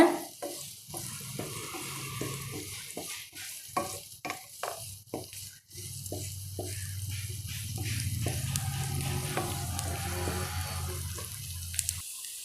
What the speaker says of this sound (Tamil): இப்போ பச்சை மிளகாவும் சேர்த்தலாங்க எல்லாத்தையும் நல்லா வதக்கிக்கோங்க